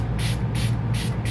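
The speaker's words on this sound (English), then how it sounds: "I also love the Milk Hydro Grip Setting Spray." Milk Hydro Grip setting spray misted onto a face in four quick hissing bursts, close and clear over a low background hum.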